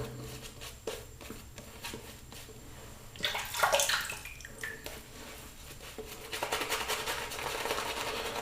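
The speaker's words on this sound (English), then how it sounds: "I'm going to add more water" Water runs from a tap in a soft steady stream, with a louder splashing burst in the middle and a fuller flow toward the end.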